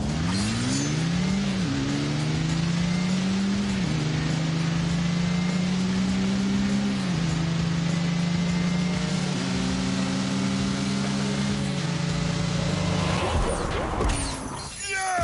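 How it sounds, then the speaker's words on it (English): A 2-litre turbo car engine accelerates hard through a drag race in a driving video game, revving loud and steady with its pitch climbing and dropping back at several gear shifts, then ending in a sudden burst of crashing noise. "Let me talk you through the engine. It's a 2-litre turbo."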